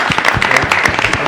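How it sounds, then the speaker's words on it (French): Applause at the close of a French-language book presentation and broadcast program, a dense, steady patter of many hands clapping at once, fairly loud and continuous throughout with no talk over it. "Applaudissements."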